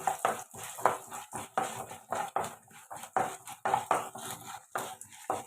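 Urad dal, chana dal and cashews roast in a pan for semiya upma while a spoon stirs them in steady rhythmic scrapes and clinks against the metal, close and alone with no voices.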